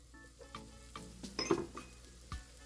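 Chopped onion sizzles in two tablespoons of olive oil, with clinks and scrapes of a utensil stirring in the pan, close and fairly quiet.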